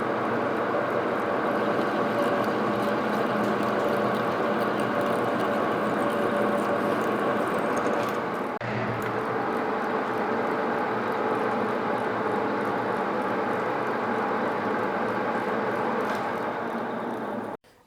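A lathe cuts a screw thread with a steady, loud mechanical drone and a grinding hum. The sound shifts slightly midway, then stops abruptly at the end.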